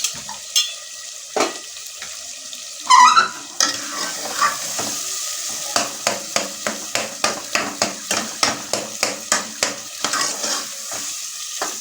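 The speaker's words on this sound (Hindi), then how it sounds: "तो 3 मिनट तक हम इन्हें भूनेंगे।" White chickpeas roasting in a pan sizzle softly while a spoon scrapes and stirs in a steady run of evenly spaced strokes, close and clear.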